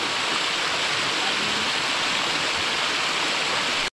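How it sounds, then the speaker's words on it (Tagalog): A waterfall in the middle of a forest, a dense, loud, continuous rush of falling water heard close, unbroken until it cuts off abruptly. "Ay, siyempre, falls ba yan?"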